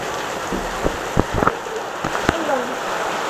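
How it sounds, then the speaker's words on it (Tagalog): Heavy rain pours steadily in a continuous broadband hiss, with a few sharp knocks and clatters standing out nearby and faint voices underneath. "Ang lakas ng ulan."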